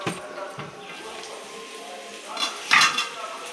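A spoon scrapes and clinks against a pan while onions cook, with soft sizzling underneath and a louder metallic clatter near the end, close and fairly quiet throughout.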